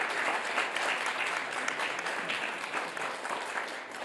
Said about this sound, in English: So I'd like to have a round of applause for them there.